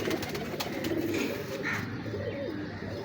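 Pigeons at a pigeon show coo softly amid a dense murmur of background noise, with a brief, low cooing call standing out near the middle.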